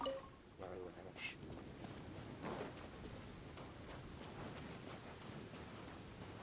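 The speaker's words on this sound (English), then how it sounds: "Please stay indoors until the storm passes." A rain and thunder storm in the video game Genshin Impact: steady, dense rainfall patters on surfaces with low rumbles of thunder underneath, continuous at moderate loudness.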